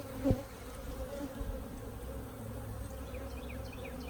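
Honeybees from a nucleus colony buzz steadily around hive frames during an install, a continuous close hum with a brief louder knock of a hive tool near the start.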